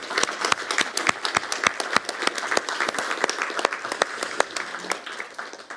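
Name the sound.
audience applause for a speaker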